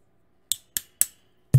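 A broken microphone stand, tuned tighter and played as percussion, gives three short bright metallic ticks at an even pace. A louder, fuller knock follows at the end.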